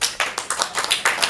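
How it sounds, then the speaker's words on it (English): A small audience gives a light, polite golf clap at a ComedySportz Portland comedy show, a handful of separate claps in an irregular rhythm, fairly close and moderately loud with no talking. "This one over here, one is like a golf clap."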